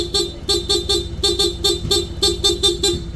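A Honda ADV160's stock motorcycle horn beeps in a quick series of about ten short honks, close and loud, with a low engine idling underneath.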